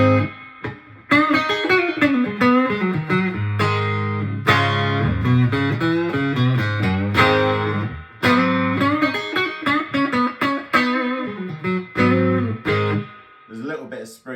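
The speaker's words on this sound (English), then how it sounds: "So this is this is the clean tone if you want to reference." An electric guitar plays a clean tone through an amp with a little spring reverb, picking a run of ringing single notes and chords at close range with short gaps between phrases.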